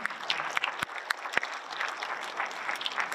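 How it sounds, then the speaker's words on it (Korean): Audience applause in a lecture hall during a KAIST talk to a naval academy, a steady wash of many hands clapping with a few sharper, louder claps standing out, continuous across the whole stretch. "이때 여러분들 박수 좀 치셔야 돼요."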